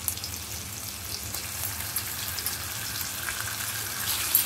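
Garlic dropped into hot oil in a pan for chilli garlic prawns, a steady close sizzle and crackle that swells slightly toward the end, with no talking.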